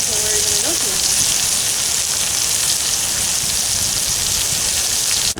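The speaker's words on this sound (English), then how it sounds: "Browning up the steaks now" Chuck roast steaks brown over a family campfire, a loud, steady, dense sizzle like heavy rain that continues without pause, with a brief faint voice near the start.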